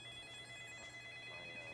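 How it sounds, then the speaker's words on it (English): A telephone in The Land of Lost Dreams rings with a steady electronic trill, quiet and continuous for the whole moment. "There's a phone ringing."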